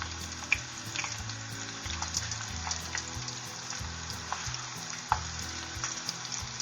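Dandelion flowers deep frying in hot oil, a continuous close bubbling sizzle with occasional sharper pops as pieces drop in one at a time, a brief word spoken over it.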